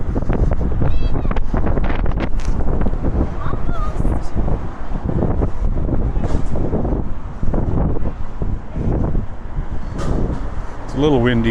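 Wind buffets a microphone while walking outdoors in a big city neighbourhood, loud continuous rumbling gusts throughout, with a person talking underneath and brief squeaky sounds near the end.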